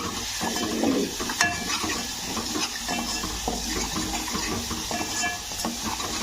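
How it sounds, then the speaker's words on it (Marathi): Masala paste with turmeric fries in hot oil with a steady, close sizzle and occasional stirring scrapes. The sizzle holds an even level throughout with no speech. "त्याचा कच्चेपणा जाऊ द्यायचा थोडासा भाजायचा तेलामध्ये"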